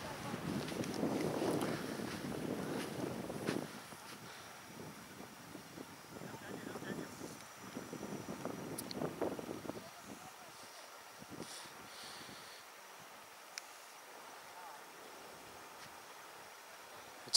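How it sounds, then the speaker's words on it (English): Wind gusts buffet the microphone in heavy rumbling bursts for several seconds, then ease off to a quieter, breezy outdoor background. "It's very chilly and cold and windy out here."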